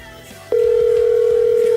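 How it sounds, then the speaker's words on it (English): A telephone tone during a call, a single steady electronic tone that starts abruptly and holds loud and unbroken, with faint speech-like murmur beneath. "It's ringing."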